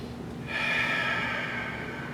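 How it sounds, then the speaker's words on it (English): A single deep, slow calming breath, drawn in and let out steadily as one long airy rush of air, close and fairly quiet with no talking. "just calm yourself down by breathing."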